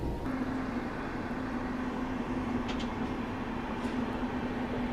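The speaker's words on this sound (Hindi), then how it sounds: "अब ये कौन सी ट्रेन क्रॉस हो रही है बिल्कुल आइडिया नहीं है।" A train crossing near Balharshah station on Indian railways: a steady, loud rolling rumble with a low hum carries on throughout, close by and unbroken, with a couple of faint higher squeaks.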